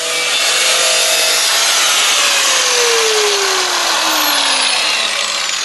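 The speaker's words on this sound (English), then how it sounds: "So Reese is over here trying to kill himself with an angle grinder, but he's making good progress." Angle grinder cutting metal near the seam of a car oil pan in a garage, a loud, continuous high-pitched whine and hiss with a slowly falling pitch throughout.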